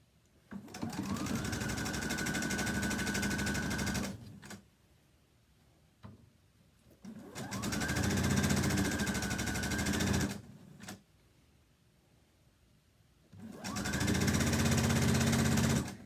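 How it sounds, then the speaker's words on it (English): A sewing machine stitches a piano keys quilt border in three steady, close bursts of whirring, each lasting a few seconds, with short quiet pauses between runs. "And we're going to sew the same way."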